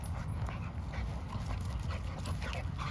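Young dog pup panting with faint whimpers, a continuous rough breathy texture close by at low level, with light movement noise in the background.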